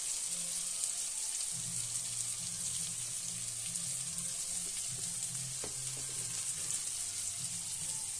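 Tomatoes softening in oil in a pan for mustard kuzhambu, a steady close sizzle running throughout with a faint low hum and a few small clicks of a utensil.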